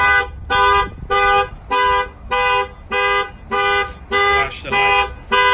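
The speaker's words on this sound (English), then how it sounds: "I'm gonna go ahead and turn off the alarm." A 2019 Chevy Silverado car alarm blares in loud, regular pulsed tones, about two per second, repeating steadily and close by.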